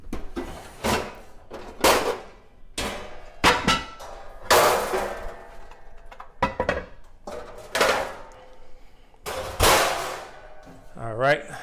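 A baking dish is pulled out and handled in a home kitchen, giving a series of sharp clanks and knocks at irregular intervals, close and fairly loud, with no talk over them.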